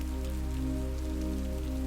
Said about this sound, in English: the rain softly pitter-patters onto the leaves of the trees and the forest floor